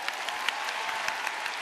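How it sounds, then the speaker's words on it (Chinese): A brief, moderate burst of audience clapping rises for the judging panel at a televised drama awards show, evenly textured and fairly distant. "让我们掌声为评审喝彩"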